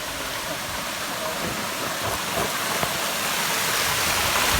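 A small waterfall flows steadily on a Kerala hillside, a dense, even rush of falling water that stays loud and unbroken throughout, with no voices over it.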